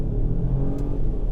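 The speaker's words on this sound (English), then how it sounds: "Now if I step on the gas a little bit right now," A 2025 Acura MDX Type S accelerating under light throttle, its engine giving a steady, loud mid-range drone with a rising rumble, heard from inside the cabin with no one speaking.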